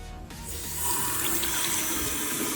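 A newly installed kitchen faucet runs a steady, strong stream of water into a glass, a close hissing splash that swells as the glass fills, with no talking.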